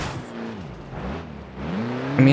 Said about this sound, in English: the engine sounds quite nice in this mod